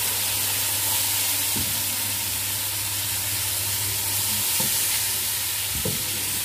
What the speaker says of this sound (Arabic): وهنديله تبديله بسيطه مع الايه، مع التوابل بتاعتنا